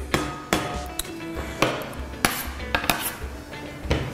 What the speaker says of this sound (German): Das Gemüse kommt alles in eine große Schüssel